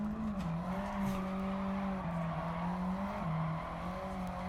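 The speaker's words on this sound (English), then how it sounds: "it's not the best drift, but it is indeed a drift" A car drifting around Tsukuba in Gran Turismo 7, a sustained, wavering tire squeal over a steady engine hum, fairly faint, with no voices.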